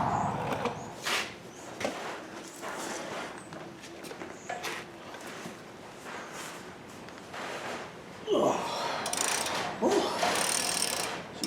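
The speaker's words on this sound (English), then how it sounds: "So I'm going to go grab an 18 millimeter socket, ratchet with an extendable handle or an extension" An 18 mm socket on a ratchet with an extension works loose the brake bolts of a 2007-2014 GM Tahoe, Suburban or Yukon, giving irregular clicks and clanks close by, with louder bursts of metal handling near the end.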